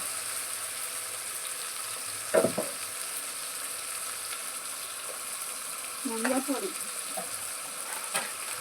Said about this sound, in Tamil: எல்லாத்தையும் போட்டு நல்லா வணங்கட்டும். நல்லா வதக்கி விட்டுக்கலாம்.